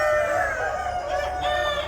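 Hens on a poultry farm cluck and call together in a steady, close, layered chorus, with a low background hum underneath.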